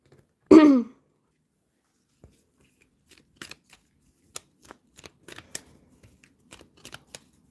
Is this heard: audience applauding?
no